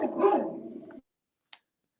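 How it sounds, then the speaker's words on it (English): A dog lets out one drawn-out, growly bark heard over an online call, followed by silence and a brief click. "he's just going on mute because the dog's going crazy"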